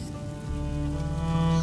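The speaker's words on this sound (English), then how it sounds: "would you mind if we get out of the rain, please?" Steady rain in the video game A Plague Tale: Innocence, a constant soft hiss over a low ambient hum, with no voices.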